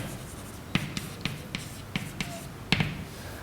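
Chalk tapping and scratching across a board during a physical cosmology lecture, a series of sharp, faint strokes at an uneven pace in a quiet room.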